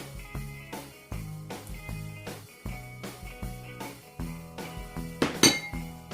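Utensils clink against a bowl while cassava cake batter is mixed, giving a steady series of close, bright taps and scrapes with a louder clatter near the end, over faint background music.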